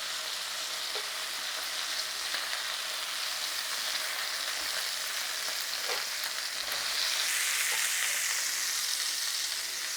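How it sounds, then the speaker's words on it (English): Sausages browning in hot oil in a pan give a steady, dense sizzle and crackle that carries on unbroken at close range, swelling slightly louder toward the end, with no voices. "We're going to get to the cooking of the sausage stage in that oil in a minute. And all we're going to do is brown them,"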